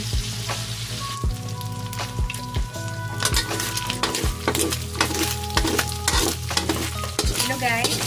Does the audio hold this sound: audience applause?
no